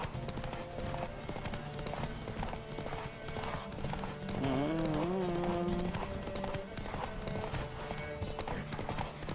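Hooves clip-clop steadily at a gallop from a horse in The Witcher 3, with a brief whinny partway through, all under a constant game music bed.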